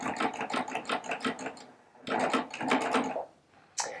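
Baby Lock Triumph serger stitching in short, rapid bursts, running in a quick stuttering patter, pausing, then restarting close to the mic, with a brief final spurt after a gap.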